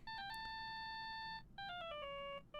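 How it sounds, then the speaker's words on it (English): A synthesized electronic ringtone from the video game Ace Attorney Justice for All plays a clear, repeating melodic phrase of sustained tones, loud and close, with no voices. "That ringtone's amazing."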